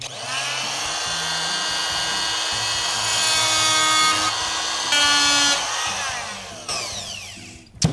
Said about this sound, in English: we're gonna use my little oscillating tool here and see if we can just kind of